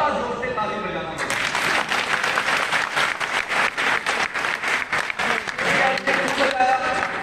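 An audience at a political speech claps loudly and continuously in dense, rapid bursts, while a speaker's voice carries over the applause.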